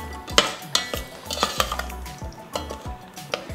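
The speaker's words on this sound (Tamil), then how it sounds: "இப்போ நல்லா மிக்ஸ் பண்ணிடலாம்." A spoon stirring thick cooked tamarind paste (puli kachal) in a metal pan, repeated scraping strokes with light clinks against the pan in an irregular rhythm, up close with no talk.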